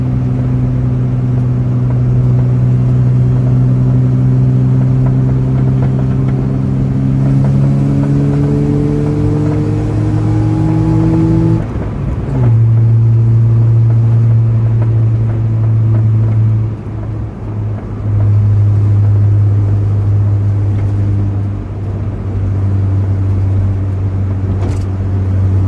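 A cheap Mazda RX7 drives on rough roads in Prince Edward Island, its rotary engine droning loudly, with rising pitch through gear changes, a brief dip at a shift, then a steady cruise.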